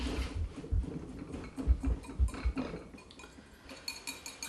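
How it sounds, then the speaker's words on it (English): A wire whisk beats flour, salt and baking soda together in a mixing bowl, producing a rapid run of light clinks and taps, close and fairly quiet, with no talking. "I always use a whisk and mix them together real well"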